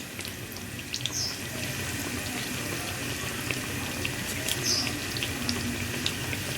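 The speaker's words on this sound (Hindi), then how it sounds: "अब मैं इसको इसमें फ्राई कर लूँगी ऑयल में डाल के" Bread pizza rolls coated and dropped into hot oil give a steady, close frying hiss that runs unbroken throughout, with faint crackles and no talking.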